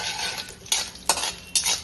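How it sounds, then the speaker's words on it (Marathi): Dry fruits such as cashews and almonds stirred in ghee in a kadhai for carrot halwa, with a steady soft sizzle broken by three sharp metal spoon scrapes against the pan, close and alone. "कढईमध्ये तूप टाकलंय, त्याच्यामध्ये आधी ड्रायफ्रुट्स फ्राय करून घ्यायचे थोडेसे नॉर्मल"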